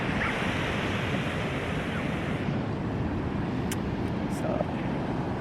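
Ocean waves break on a beach in a steady, loud wash of surf mixed with wind buffeting the microphone, continuous across the whole stretch without talk.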